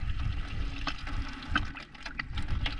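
Water from a borehole hose pours into a bucket as a steady splashing, gurgling flow, close and moderately loud, with brief splashes standing out.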